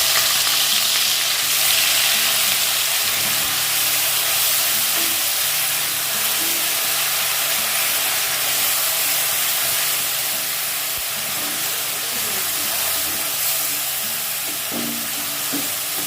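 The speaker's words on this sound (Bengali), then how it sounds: "তেলে দিয়ে দেব পেঁয়াজ বাটা।" Onion paste fries in hot oil, a loud, continuous sizzle and hiss that holds steady throughout with faint stirring underneath and no talk.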